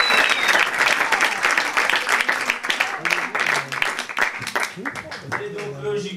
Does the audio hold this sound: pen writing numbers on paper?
no